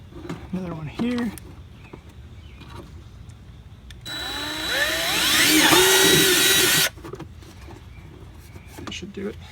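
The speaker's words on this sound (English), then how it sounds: "We're just gonna drill holes to kind of meet those" A power drill bores holes through a Jeep JK fender liner, a loud steady whine of about three seconds that rises and falls as the bit cuts through, with speech before and after it.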